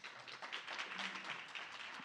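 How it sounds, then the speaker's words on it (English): Scattered clapping from a small audience at a youth climate summit, quiet and steady, heard from some distance with no talk over it. "If we could have a round of applause for them."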